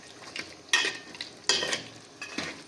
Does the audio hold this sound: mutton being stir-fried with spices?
yes